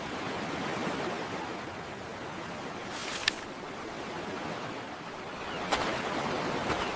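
Waves wash steadily onto a beach as a soft, continuous hiss of surf, fairly faint and even, with no voices.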